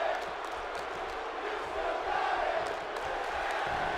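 Arena crowd in WWE 2K18 cheering and roaring for Goldust at a wrestling event in Austin, a steady broad wash of fan noise that swells slightly midway, with no voices standing out.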